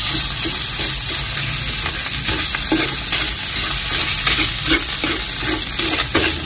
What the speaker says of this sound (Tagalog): So isangag na natin to, haluin na natin ng higit